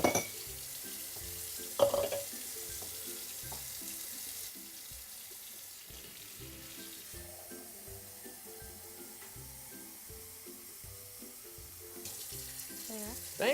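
Water running from a kitchen tap into a glass, a steady faint stream in a quiet indoor room with a brief clink near the start.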